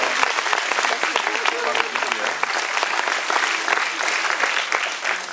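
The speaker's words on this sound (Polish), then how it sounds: "publiczność zwykle okrasza je oklaskami" A festival gala audience at the OFF Camera 2015 awards ceremony claps loudly and densely, a sustained roar of applause with sharp individual claps rising out of it throughout.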